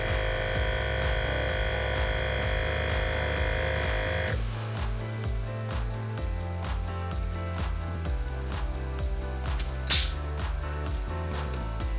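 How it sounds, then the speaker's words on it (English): A TJM on-board air compressor fitted to a Toyota Prado GX460 runs steadily as it fills its air tank, a continuous droning hum with a brief shift in tone partway through, heard alone without talk. "the pressure switch will turn off the compressor when the pressure in the tank and the compressor reaches 120 psi"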